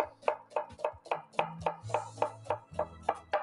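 A knife finely chops onion on a board, making about a dozen quick, even, close knocks in a steady rhythm with no talking.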